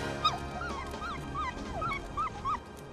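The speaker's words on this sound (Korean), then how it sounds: "낑낑대며 울기 시작하는 새끼 강아지." Newborn puppies, a litter of seven hidden outdoors, whimper and whine in a run of high, thin, rising-and-falling cries, faint and close, repeating in a steady irregular rhythm over quiet outdoor background.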